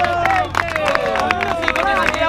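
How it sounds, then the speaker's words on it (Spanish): A crowd at a freestyle rap battle claps and shouts in a steady, dense roar, with voices rising above the clapping throughout. "¡Un aplauso!"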